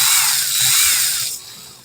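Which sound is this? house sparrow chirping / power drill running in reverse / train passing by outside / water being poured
power drill running in reverse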